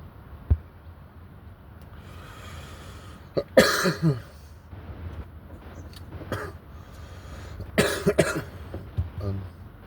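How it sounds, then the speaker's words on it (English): Several sharp coughs and throat-clearing bursts, close and fairly loud, scattered over faint background noise. "I got a cough at the moment"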